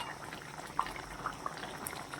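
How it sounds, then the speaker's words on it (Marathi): A pot of cauliflower dal curry simmers on low gas, giving a soft, steady bubbling with a few faint pops, quiet and close. "मस्त अशी आपली भाजी शिजत आहे लो गॅसवर"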